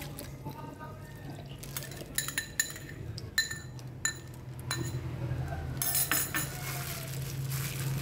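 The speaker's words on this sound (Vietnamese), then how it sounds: "Mình bỏ vô đây một tí muối nè đánh đều cho nó tan ra" Vinegar, sugar and salt stirred together in a bowl for a sweet-and-sour radish salad dressing, with a spoon clinking repeatedly against the sides in uneven bursts over a steady low background hum.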